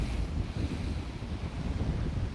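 Strong wind buffets an outdoor microphone fitted with a windscreen, making a continuous low rumble and roar with no voices.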